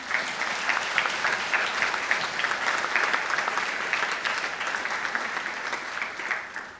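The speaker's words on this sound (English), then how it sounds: "I think she deserves another big round of applause." Applause from delegates at a Model United Nations opening ceremony, a full, sustained round of clapping that holds steady and fairly loud before tapering slightly at the end.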